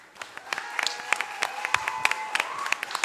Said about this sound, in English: round of applause for Miss Pierce